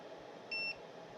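A ToAuto lapidary trim saw gives one short, clear electronic beep as it powers on, a steady tone lasting about a quarter second over a quiet room hiss.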